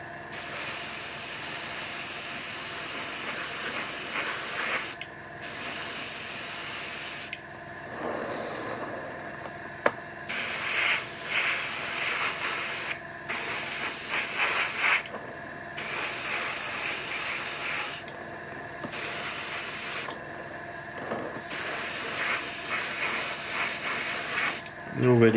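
Spray paint goes on in light coats over a Bandai 1/48 StuG III model kit, heard as a run of close hissing bursts separated by brief pauses.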